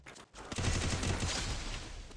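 Rapid automatic gunfire from a shooter video game rattles out in a loud, dense burst after a brief pause, close and continuous with no talk.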